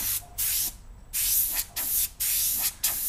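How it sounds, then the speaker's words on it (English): Bursts of fine spray from a dual action airbrush laying paint on paper for a portrait, several short hissing passes separated by brief pauses, close and steady with no talk. "With this type of airbrush, which is a dual action airbrush, you can get to pretty much a hairline with this thing"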